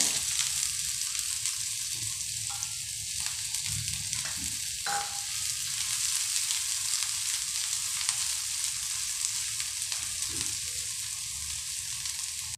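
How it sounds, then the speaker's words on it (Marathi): Onion frying in oil flavoured with star anise and bay leaf for shahi veg momos, a dense, even hiss of sizzling oil held steady throughout, with a few faint stirring clinks and no talking. "त्याच तेलामध्ये कांदा परतून घ्यायचा"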